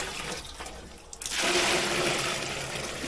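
Clear mountain spring water overflows from a full drum in a steady, rushing splash. The flow gets louder and fuller partway through and keeps pouring without a break.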